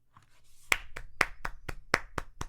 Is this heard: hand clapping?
yes